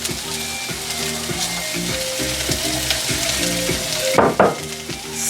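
Onions fry in a hot pan with a loud, continuous close-up sizzle, a stirring clatter and a brief scrape near the end, with no talking over it.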